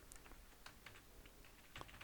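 Faint, scattered keystrokes on a computer keyboard, a few light clicks in irregular rhythm over a quiet room.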